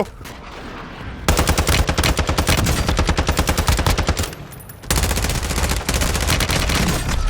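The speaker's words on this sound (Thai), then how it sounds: "มาแล้วปืนสตาร์ไลท์ครับ จะแจ่มไหมมาดู" Rapid automatic fire from the Starlight gun in the video game Warzone, in a mode featuring heroes from The Boys. Two long, loud sustained bursts of rattling shots are split by a brief pause, with no talking.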